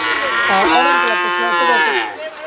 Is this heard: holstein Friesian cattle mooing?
yes